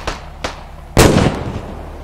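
Grenade explosions in the video game Squad: two quick sharp bangs, then a louder, heavier blast whose rumbling tail fades over the next second.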